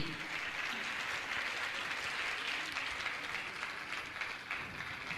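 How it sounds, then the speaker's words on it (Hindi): Steady, even audience applause at a religious gathering's honoring ceremony, a broad continuous patter of many hands from a large crowd, heard alone without speech, moderately distant. "मैं चाहूंगा आपकी तालियां अच्छी बजनी चाहिए"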